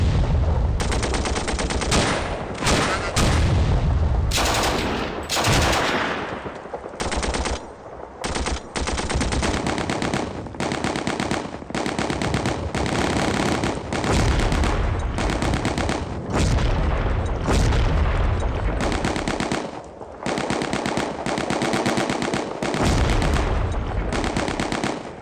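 Rifle and machine-gun fire in the wargame Steel Panthers: World at War: dense, loud bursts of gunfire and rapid rattling volleys that run almost continuously with brief gaps, no talking.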